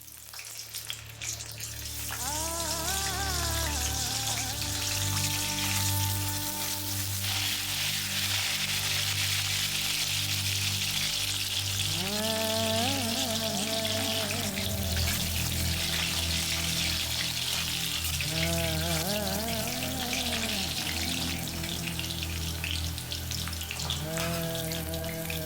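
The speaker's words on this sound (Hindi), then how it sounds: "पहले कढ़ाई में गोभी को अच्छे से भून लेंगे।" Cauliflower florets frying in a kadhai for a Bengali-style aloo gobi, a steady loud sizzle running throughout with occasional stirring scrapes and faint music-like tones in the background, no talking.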